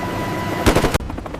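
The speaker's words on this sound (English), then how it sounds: "The sound of the chain gun is often compared to the crumbling of graham crackers." An Apache helicopter's 30mm chain gun firing a short rapid burst, loud and close, over a steady background drone, ending abruptly.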